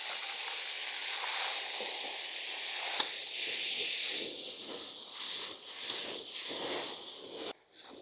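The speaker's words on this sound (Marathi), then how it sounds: "आपण आता यामध्ये अद्रक लसूण हिरवी मिरचीची पेस्ट केली ती घालून घेऊ" Ginger, garlic and green chili paste hisses and sizzles in hot oil with cumin and curry leaves. The frying stays loud and steady, with faint stirring scrapes and crackles, then drops off sharply near the end.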